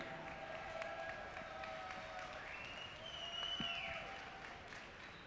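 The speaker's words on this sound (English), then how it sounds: "Give yourself a round of applause for being here." An audience at a real estate awards ceremony applauds steadily at moderate volume, a dense wash of clapping with no talk over it.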